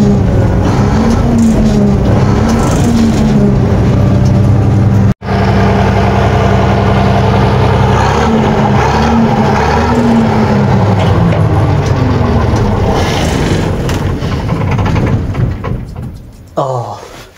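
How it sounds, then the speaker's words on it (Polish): Bizon combine harvester engine in frosty weather, idling loud and close, given gentle throttle so the pitch rises and falls in a few slow swells, with a brief cut partway and a fading tail, and no voices. "Dobra, dam mu troszkę gazu,"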